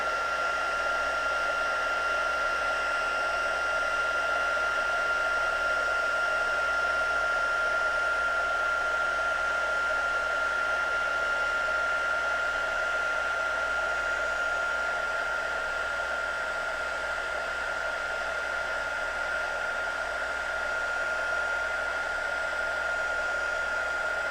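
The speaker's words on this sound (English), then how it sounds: "take the heat tool, turn it on, give it a good moment. And then come on in and blast it." A heat tool used for crafting blows hot air in a continuous loud whoosh with a steady high whine, running unchanged for over twenty seconds with no talking.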